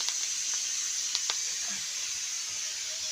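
Spices sautéing in a hot pan give off a steady, close hiss and sizzle, with a few faint clicks near the start and middle. There is no talking.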